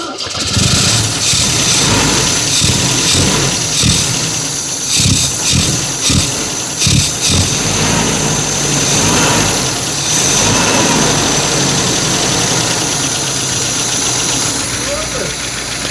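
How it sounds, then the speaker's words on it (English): An MGB GT engine, a long-neglected cheap example being revived, cranks and catches, then settles into a steady idle; loud and close, with sputtering bursts early before smoothing out, and people talking nearby. "It's idling!"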